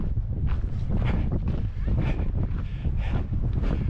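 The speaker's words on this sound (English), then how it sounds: "Wind's crazy up here." Strong gusting wind roars and buffets the microphone on a high mountain pass around 12,600 feet on the Colorado Trail, steady and loud throughout with a voice speaking briefly over it.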